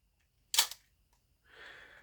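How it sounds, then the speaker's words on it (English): A Chinon CM-4 film SLR fires its shutter at 1/500th of a second, one sharp close mechanical snap followed after a short pause by a softer whirring rattle as the mechanism resets, with no talk. "I thought I'd stop the lens down and go through all of the shutter speeds, starting from 1/1000th of a second"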